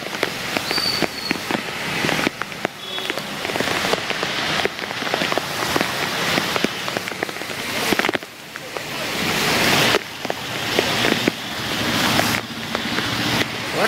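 Heavy rain pours continuously over Junagadh city streets, a loud dense hiss of drops striking surfaces close by, steady throughout with slight surges.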